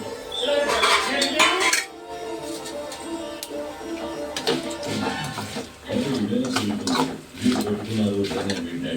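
Metal utensils clink and scrape in a home kitchen as green chillies are moved from an oily pan into a bowl. The clatter is irregular and busy, with bursts of louder knocks.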